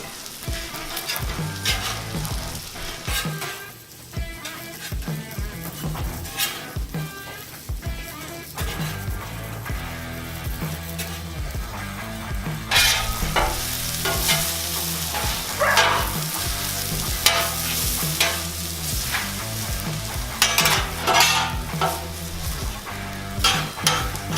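Onions fry on a 36-inch Blackstone griddle, sizzling loudly while a spatula scrapes and clatters across the flat-top steel in busy bursts, with a dog barking faintly in the background.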